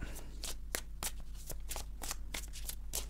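A deck of tarot cards being cut and handled, heard as a quick run of close, crisp riffling card snaps, nearly a dozen in about three seconds, over a low steady hum.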